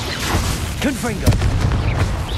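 In Hogwarts Legacy, a Confringo fire-blast spell goes off as a few dull booms and pops in quick succession, with a voice speaking over the blasts.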